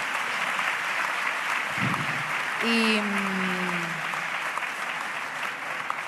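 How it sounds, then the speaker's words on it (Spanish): Audience applause at a panel on living together in the digital age, broad continuous clapping from a large room, with a brief low thump and a voice-like tone sliding through the middle. "le demos un aplauso de ejemplo de superación a Ismael"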